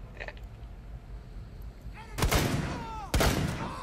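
Gunfire in Rainbow Six Siege during a Terrorist Hunt: two loud, sharp shots about a second apart, each with a ringing tail, after a quieter stretch of game ambience.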